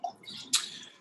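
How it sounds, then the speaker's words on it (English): Laphroaig Four Oak whisky poured into a glass, a short, soft liquid trickle with a brief splash at the midpoint, close and quiet. "I'll pour a little bit of this out into the glass"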